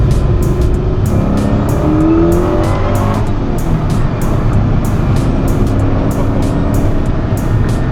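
A 2006 Ford GT's V8 engine roars close and loud as the car accelerates through a corner, a steady throaty growl with faint tire squeal and no speech.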